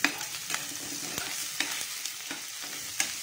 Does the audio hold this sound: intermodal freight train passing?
no